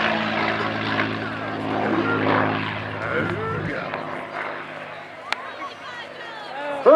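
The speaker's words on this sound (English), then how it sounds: "One of the greatest things about a P-51 is the sound of the engine." A North American P-51D Mustang "Quick Silver" roars past at an air show, its piston engine loud and throaty at first, then fading as the aircraft pulls away, with crowd noise faintly in the background.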